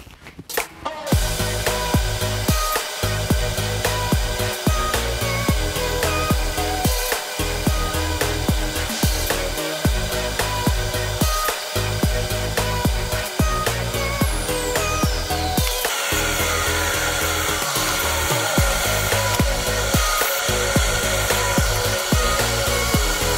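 A steady, loud mechanical whir of power sanding on a wood and epoxy resin piece turning on a lathe, with a grinding, rubbing texture and brief regular dips, continuing for a long stretch.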